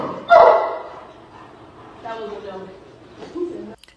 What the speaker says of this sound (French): Donc là, on n'est pas du tout sur de l'aboiement d'agressivité.